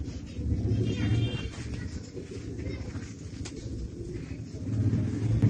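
Soft, low cooing of racer pigeons, including young birds, repeats close by, with faint rustling and background noise in between.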